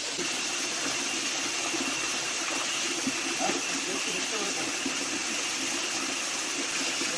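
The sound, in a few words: water flowing at Hidden Falls, Shivamogga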